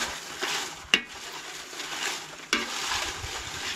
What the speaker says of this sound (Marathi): सो आतां मम्मी कोथमिरी फ्राय करतली.